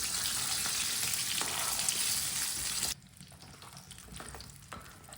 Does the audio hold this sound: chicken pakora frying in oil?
yes